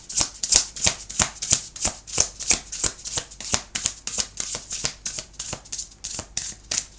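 Rhythmic riffling of a deck of tarot cards being shuffled, crisp repeated flicks close up, steady and continuous with no voices.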